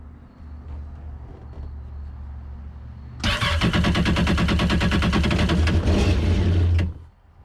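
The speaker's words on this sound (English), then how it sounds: "I will crank the engine momentarily just to get that oil through the cylinders" Yamaha Waverunner GP1800R 1.8-litre engine, spark plugs out for winterizing, cranked by the starter: quiet background, then a loud rapid rhythmic whirring churn for about four seconds that stops abruptly.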